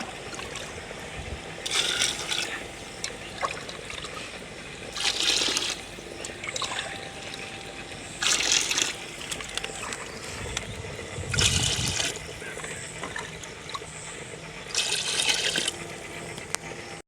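Water poured from a mug over rice in a pot for an egg pulao, coming as a series of about five splashing pours at regular intervals with quieter gaps between.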